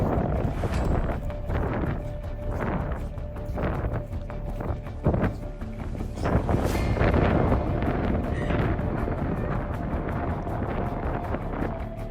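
Gusty wind sweeps across the Wahiba Sands desert dunes in Oman, a steady, loud, roaring buffet against the microphone with brief surges, lasting throughout without pause.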